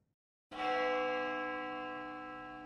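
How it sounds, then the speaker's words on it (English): A school clock tower bell in the game Spirit Hunter: Death Mark II strikes once after a short silence, then rings on loudly with a long, slowly fading resonant hum. "The sound of a bell rings loudly in my ears. It must be coming from the school's clock tower."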